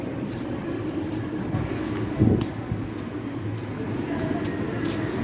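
A Bangkok MRT Blue Line metro train rumbles steadily at Bang Wa station with low mechanical hum and clatter, a louder rush swelling briefly midway, with faint station ambience around it.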